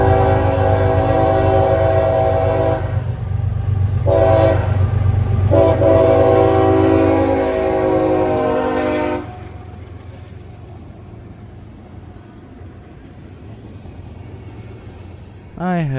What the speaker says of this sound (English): a southbound freight train that comes daily